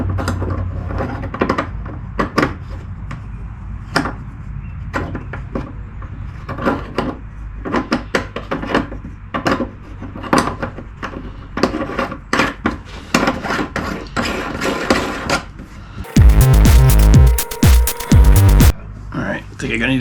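Metal drain fitting screwed by hand into the bottom of a sink in a 2005 Ford E250 van, close-up clicks, scrapes and taps of parts in a repeating irregular rhythm, a louder burst of rattling near the end.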